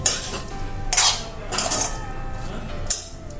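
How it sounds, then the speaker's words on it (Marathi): Steamed green tomatoes being crushed in a mortar, heard as several close clinking knocks of the pestle against the vessel, spaced irregularly over a light background. "आणि आता तो आपण असं बडगीत ठेचून घेणार आहोत"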